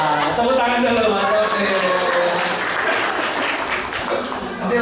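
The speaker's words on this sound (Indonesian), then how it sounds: "Tepuk tangan dulu, Mas." Loud, sustained applause fills a hall during a February 2026 church worship service, a thick continuous wash of clapping with voices running over it throughout.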